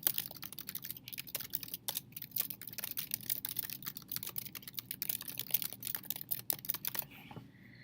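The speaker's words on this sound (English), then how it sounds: "I'm going to type in some notes about the call." Steady, fast typing on a computer keyboard as notes are entered, with close, crisp keystrokes in an irregular rhythm that stop just before the end, with no talking.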